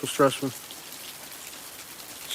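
Steady rain pours down during a storm rain band in Alabama, a constant hiss that continues after a brief voice at the start.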